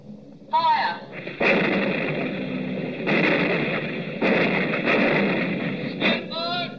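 Anti-aircraft artillery fires in a 1942 radio drama, a loud run of heavy booming blasts sustained over several seconds, with voices calling out briefly between the salvos.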